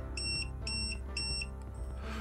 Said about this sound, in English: The 4 beeps and 4 LEDs tells me that this lock is now addressed at address 3